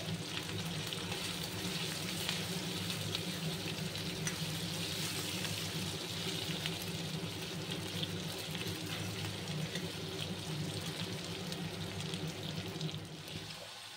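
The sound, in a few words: chicken and potatoes frying in oil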